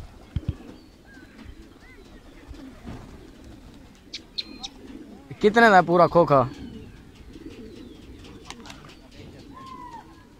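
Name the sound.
pigeons cooing in a box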